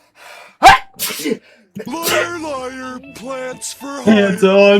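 A person sneezes loudly and close by during a tabletop role-playing game session, one sharp burst with people talking around it.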